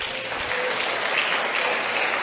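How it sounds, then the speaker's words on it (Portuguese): A church congregation applauding during a sermon, loud sustained clapping from a large crowd, continuous and dense throughout. "Dê um aplauso ao Senhor."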